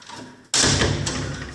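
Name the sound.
French window being opened or closed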